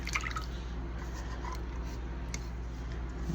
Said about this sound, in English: we're gonna pour this in the bottom of this dish